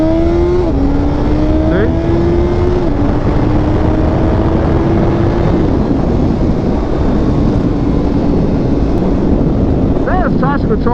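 A 2022 Suzuki Hayabusa motorcycle accelerates hard from first gear, its loud engine whine climbing steeply in pitch through quick upshifts, with heavy wind roar over the microphone and a brief spoken word near the start.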